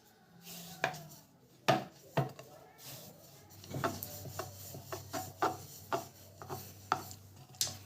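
Stuffed potato paratha dough being rolled out with a rolling pin, close by: a few scattered knocks, then a steady run of rhythmic rubbing strokes and soft thuds against the board.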